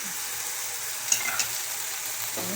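Moong dal being stirred in a frying pan, giving a steady close sizzle with a couple of brief scraping clinks near the middle, heard alone without talk.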